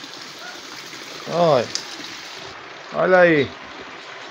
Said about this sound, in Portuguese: Muita chuva. Muita chuva mesmo.